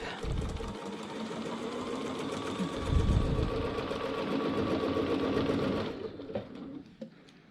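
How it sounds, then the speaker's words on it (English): A sewing machine stitching a quilt runs in a steady rapid whir for about six seconds, close and prominent, then stops with a few soft handling knocks after. "And then I'm just going to go ahead and start stitching."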